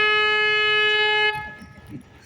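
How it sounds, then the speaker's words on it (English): A river tour boat on the San Antonio River Walk sounds its horn once in a loud, sustained blast. The horn cuts off abruptly and faint voices and ambience follow. "I have to stop the boat here and honk the horn"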